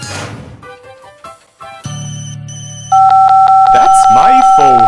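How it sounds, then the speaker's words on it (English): A phone starts ringing in an edited cartoon, a loud steady electronic tone that follows a short stretch of speech and music. "That's my phone."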